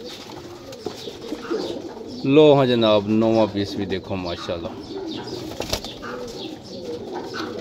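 Teddy pigeons, among a batch of Rampuri and other fancy breeds in Jhelum, coo softly with a brief flutter of wings while someone talks steadily nearby.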